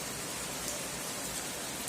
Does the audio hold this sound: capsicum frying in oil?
no